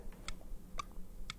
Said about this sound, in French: le petit bruit que vous entendez là depuis le début, c'est le tic-tac de son horloge biologique